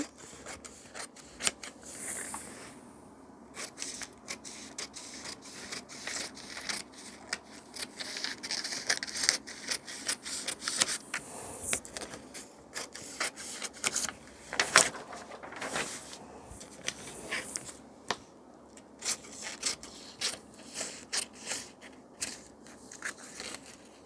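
Scissors cutting blouse fabric, with repeated quick snipping and crisp crunching strokes running steadily throughout, close but fairly quiet.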